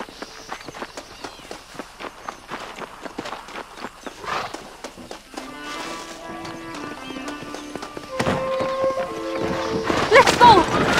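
Stagecoach horses in Red Dead Redemption clip-clop along at a brisk pace, hooves rapping steadily while a horse whinnies, music rises over the hoofbeats and voices speak briefly.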